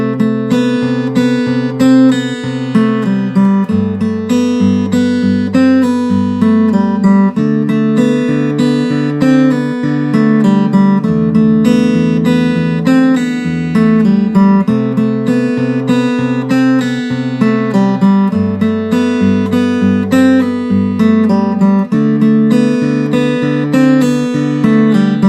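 A fingerstyle acoustic guitar plays the intro of a song from the Kpop Demon Hunters soundtrack, with a bass line moving under picked melody notes and chords in an even, continuous flow, close and clear, with no voices.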